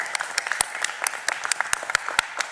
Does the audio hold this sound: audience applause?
yes